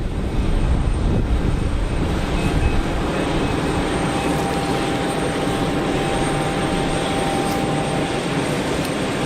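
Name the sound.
Transavia Boeing 737 aircraft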